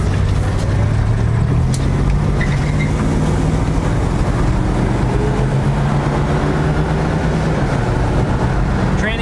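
A 1967 Dodge Coronet R/T drives steadily from inside the cabin, its engine droning loud and continuous with rising pitch sweeps as the transmission shifts up through the gears.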